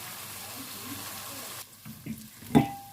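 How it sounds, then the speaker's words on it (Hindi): Minced meat keema frying in a pan gives a steady, soft sizzle that then gives way to scraping and clinking of stirring against the pan. "कीमे की बुनाई अच्छे से हो चुकी है।"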